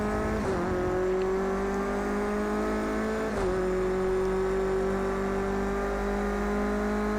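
A Clio Cup race car engine in a racing video game drones at high, sustained revs, with brief pitch dips from gear changes near the start and midway, continuous and without talk.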